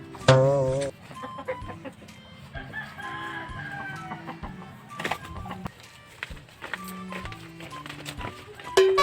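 Roosters crow loudly up close, with clucking hens and other fowl scattered around them and occasional knocks in the background.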